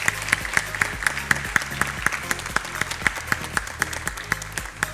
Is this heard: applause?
yes